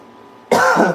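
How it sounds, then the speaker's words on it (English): After a quiet moment, one loud, harsh cough bursts out close by, rough and throaty, lasting about half a second. "Damn, this cough, bro."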